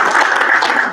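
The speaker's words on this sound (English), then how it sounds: "And Reed, we're going to hold for applause on that because that's incredible." Applause breaks out at a political party national committee meeting, a steady, dense burst of many hands clapping together, fairly loud and close, with no talk over it.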